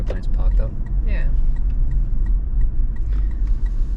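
Steady road rumble from inside a car following a Hyundai Elantra near Alice Springs, a constant low drone with people talking over it.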